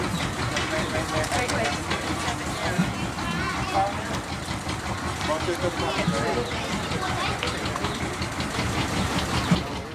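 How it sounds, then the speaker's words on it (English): A boat's engine clatters steadily as the boat heads upriver in Cambodia, a dense continuous mechanical rumble close by, with people talking over it throughout. "We clamber aboard and with the engine clattering set off upriver."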